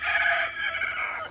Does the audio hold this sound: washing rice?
no